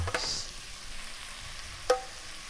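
Pork goes back into a pot with translucent onions and cooked-down vegetables, giving a faint, steady sizzle with a light stirring clink near the start and another sharp clink near the end.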